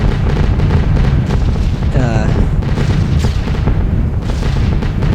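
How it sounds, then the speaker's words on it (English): Heavy flak anti-aircraft fire bursting around a B-17 bomber in a World War II flight game: dense, continuous rumbling booms and crackling blasts fill the clip, loud and close, with a brief whistling tone near the middle. "that's some heavy flak right there. As long as this is going off, though, we should be fine"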